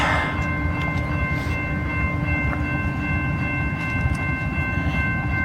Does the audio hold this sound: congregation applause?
no